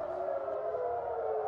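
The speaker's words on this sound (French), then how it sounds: "dans les rues de Jérusalem, les sirènes retentissent" Civil defense air raid sirens wail across Jerusalem streets, a steady sustained tone holding at moderate loudness with a faint low rumble beneath and no voices.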